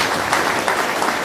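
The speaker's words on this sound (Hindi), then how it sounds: "एक बार मुझे तालियों से आदेशित करिए।" Brief burst of applause from an audience at a Martyrs' Day gathering, steady dense clapping throughout with no voices over it.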